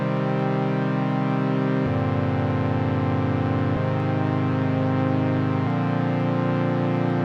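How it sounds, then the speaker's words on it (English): A basic chord progression in simple root-position form: four sustained chords, each held about two seconds before shifting to the next, full and even, with no voices. "So now my harmony with chords that are in their basic form sound like this."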